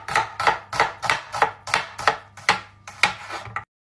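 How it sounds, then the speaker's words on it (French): A knife chops through an onion on a board in a quick even rhythm of about ten sharp strokes, close and clear, then stops. "Show us how you cut an onion"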